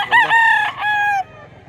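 A rooster crows loudly and close by at a chicken market in Mantalungon, Cebu, one full harmonic crow that tails off into quieter market background.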